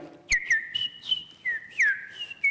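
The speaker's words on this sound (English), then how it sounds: "this little orchard Oriole, he's a little smaller, still a beautiful song, right?" An orchard oriole sings a quick run of clear, sliding whistled notes, some rising and some falling, close and fairly loud over a quiet background.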